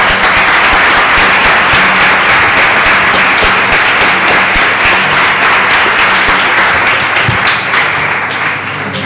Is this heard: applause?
yes